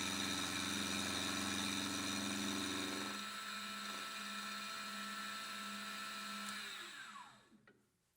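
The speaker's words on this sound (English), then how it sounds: "throw it in a collet block vertically in the mill and cut some straight sides on it" A vertical mill runs as it cuts straight sides on a small part held in a collet block, a steady whining hum with tonal harmonics that drops in pitch and spins down at the end.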